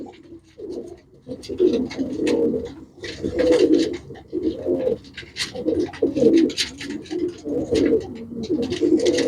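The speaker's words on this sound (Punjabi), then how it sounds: "ਇਹ ਵੀ ਵੱਡਾ ਕਬੂਤਰ ਹੈ" Pigeons coo close by in repeated soft, throaty rolling calls, several overlapping in a steady rhythm, with light flutters and scuffling between them.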